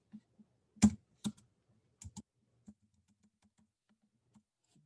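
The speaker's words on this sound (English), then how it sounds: "I'm going to type in animate again." Typing on a computer keyboard in a quiet room, a few sparse, close keystrokes with one louder cluster early on, followed by faint scattered taps.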